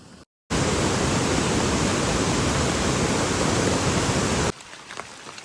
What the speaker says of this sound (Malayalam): ഇവിടെ ഒരു വെള്ളച്ചാട്ടം ഉണ്ട്